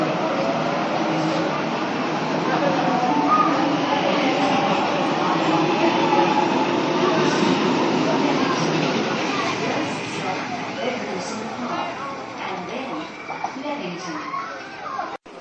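A suburban passenger train pulls away from Glenfield station with a broad, steady rumble that slowly fades, while a platform announcement and other voices carry over the noise.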